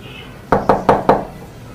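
Four firm knocks on a door, evenly spaced in quick succession, close and distinct against a quiet room.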